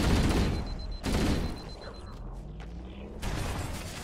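Enemy gunfire in the Halo: Combat Evolved video game, dense bursts of shots crackling loudly at the start and end with a quieter stretch in between, heard alone without talk.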